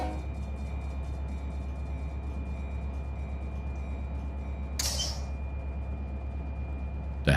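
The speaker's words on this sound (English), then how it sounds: "Sound like something to do with the air brakes or something." Air brakes on a train in the Run 8 Train Simulator game let out a brief hiss partway through, over a steady low locomotive rumble.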